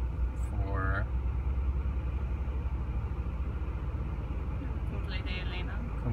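A car driving along the Rambla in Montevideo, Uruguay gives a steady low engine rumble with road noise from inside the cabin, and brief chirpy sounds rise over it near the start and end.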